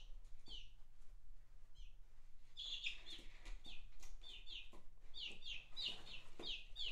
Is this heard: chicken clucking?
yes